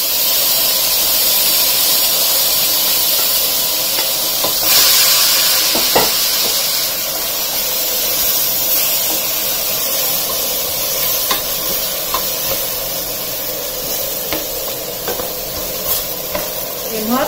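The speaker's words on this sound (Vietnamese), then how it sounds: "Bây giờ mình sẽ bỏ vào chung hết, rồi mình xào." Vegetables and minced pork stir-fry in a pot for a homemade soup, giving a steady sizzle and hiss with occasional scrapes and clinks of stirring throughout.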